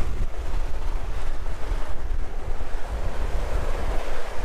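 Steady roar of wind and breaking waves aboard a heeled sailboat making about 7.5 knots in 15-plus knots of wind in the Cyclades, Aegean Sea, with continuous buffeting wind noise on the microphone and no talk.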